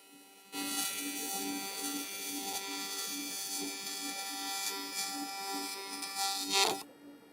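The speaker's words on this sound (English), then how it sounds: "So you can see I'm focusing the weld more on that inlet ring." Aluminum sheetmetal intercooler inlet ring being welded gives a steady, even electrical buzz that starts abruptly, holds for about six seconds and cuts off, with no talking over it.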